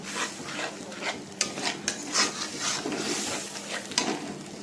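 Spice paste with cashew nuts being stirred and scraped in a pan for a vegetarian dish, with steady rasping strokes and a soft sizzle under a few sharp metal knocks of the spatula against the pan.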